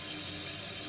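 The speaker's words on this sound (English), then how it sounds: "This is actually the sound of the toilet filling up." A toilet cistern refilling after a flush inside a house, a continuous hissing rush of water through the inlet valve, steady and fairly quiet with no voices.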